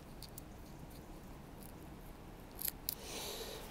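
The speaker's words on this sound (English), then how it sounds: "the shell back for this fly is just a bit of booby tube, and I like to roughly cut it in half" Scissors cutting a piece of booby foam tube in half while tying a beetle fly: two quick, faint snips close together near the end of a quiet stretch of room tone.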